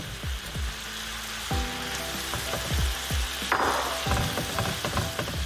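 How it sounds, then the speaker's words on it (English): Beef strips and potatoes sizzle and crackle steadily in a pan, with scraping stir strokes and clinks of a utensil against the metal, close and moderately loud, no talking. "So my beef is pretty much cooked through, and I'm bringing back my potatoes."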